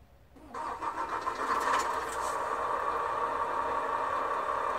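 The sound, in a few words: truck engine starting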